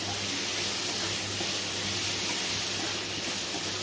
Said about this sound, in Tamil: தக்காளி தோல் நல்லா சுருங்குற அளவுக்கு வதக்கிக்கோங்க.